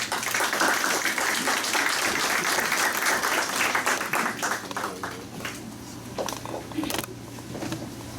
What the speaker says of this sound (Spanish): Un fuerte aplauso para Roberto Tarazona